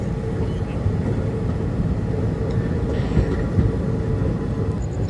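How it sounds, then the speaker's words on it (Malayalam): Amrita Express train pulling slowly away from Puthumalpettai: a steady, heavy low rumble of wheels and carriages that holds at an even level throughout, with no distinct horn or clanks. "പുതുമൽപേട്ടയിൽ നിന്നും ട്രെയിൻ പതുക്കെ പോവുകയാണ്"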